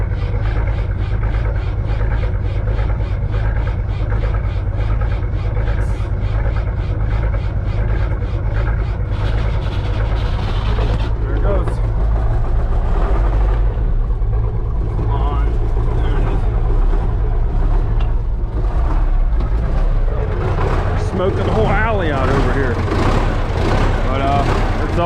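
A vehicle engine idles roughly and lopes unevenly after a cold start in freezing weather, a loud, steady low rumble with a pulsing rhythm throughout and some clattering, and a voice briefly audible over it.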